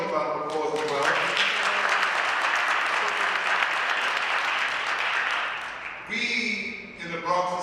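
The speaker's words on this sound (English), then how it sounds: "Let's give them a strong round of applause as well" At an Albanian Independence Day celebration in the Bronx, an audience breaks into a sustained round of applause for about five seconds, with a voice speaking before and after.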